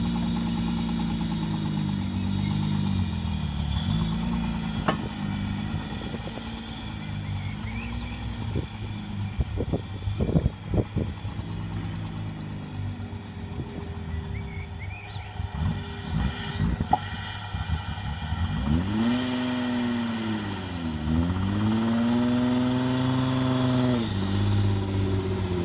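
A motorbike starting up for the first time after five years parked, its engine idling with an uneven rumble, some clunks and knocks mid-way, then revving up and down in smooth swells toward the end.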